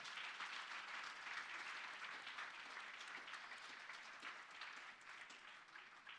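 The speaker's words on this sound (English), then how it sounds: "Please give a round of applause to the panel." Audience applause for a panel at a conference on economic equity for women, steady and continuous but fairly soft and distant, tapering slightly toward the end.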